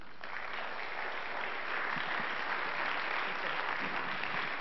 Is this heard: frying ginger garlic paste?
no